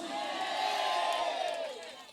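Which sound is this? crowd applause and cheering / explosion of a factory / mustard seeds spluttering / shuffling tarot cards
crowd applause and cheering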